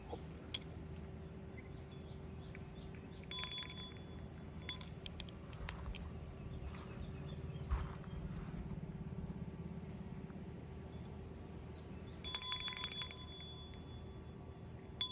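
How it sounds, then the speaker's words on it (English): A hand bell, formerly used at a daycare, is rung in three short bursts to call training pigeons home. The ringing is moderately loud and sounds outdoors over a low, steady background hum, with no talking. "I have this bell, by the way, that used to belong to my wife's daycare business. That's what I've been using instead of shaking cans and whistling"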